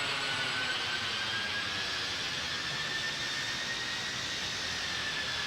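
Boeing 747 jet engines roaring steadily at takeoff thrust in a flight simulator game, a dense continuous rush with a thin high whine running through it, no talk.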